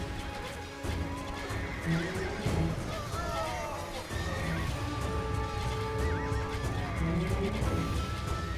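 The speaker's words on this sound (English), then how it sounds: "The Scythians have dozens of those mad-eyed horses they ride, all stomping and snorting in a big pen." Horses neigh and whinny repeatedly in an Age of Empires II game scene, a herd of Scythian horses stomping and snorting in a pen, with hoof clip-clops and a dense, continuous game soundscape throughout.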